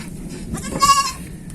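A Dorper cross breeding ram on a grassy goat and sheep farm gives a single drawn-out bleat, near and clear over a steady outdoor background.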